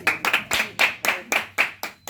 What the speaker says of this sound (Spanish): Dale un fuerte aplauso que para el Señor.